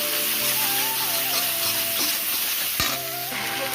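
Ground coriander, chili powder, turmeric and salt sizzle in a hot pan, stirred with scraping strokes under a steady frying hiss, with faint tonal background sound behind.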